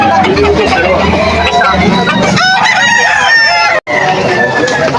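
Roosters crowing among clucking chickens at a poultry sale in Malolos, Bulacan, with several loud, close crows overlapping over a busy background of people chatting.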